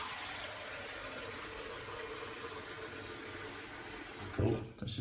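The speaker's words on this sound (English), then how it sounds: "so we're just gonna fill the sink with water." Water runs from a tap into a bathroom sink as a steady, even hiss filling the sink, ending with a brief louder splash and gurgle near the end.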